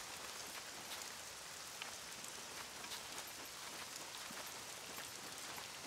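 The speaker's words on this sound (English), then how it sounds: "I have never seen a storm this bad." Dense heavy rain from a severe storm in a video game hisses steadily, even and unbroken, with no voices.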